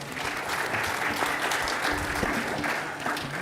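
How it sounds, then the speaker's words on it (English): An audience at a youth entrepreneurship event claps for two presenters, a steady, moderately loud wash of applause that lasts the whole few seconds with no voices over it. "let's give a hand clap to the 2 presenters again."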